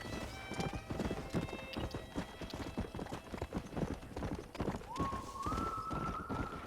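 Horse hooves clip-clop steadily on the ground in the Red Dead Redemption video game, a rapid, continuous rhythm of close hoofbeats with a horse whinnying early on and a thin tonal game sound rising near the end.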